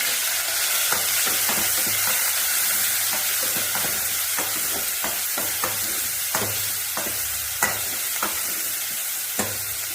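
Mustard seeds and onion sizzle in hot oil in a village kitchen, a continuous frying hiss punctuated by frequent sharp pops and crackles of seeds, close and steady, with no talk.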